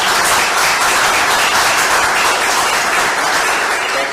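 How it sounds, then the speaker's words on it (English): An audience at an annual meeting gives a loud round of applause, with thick continuous clapping that stays strong and even for the whole stretch. "Let's give these folks a round of applause."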